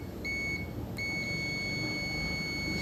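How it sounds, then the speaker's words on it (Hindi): Electrical continuity tester beeps while checking a changeover switch: a steady high-pitched electronic tone that sounds briefly, cuts out for a moment, then resumes and holds, close and clear. "यहाँ पर बीप की आवाज़ आ रही है"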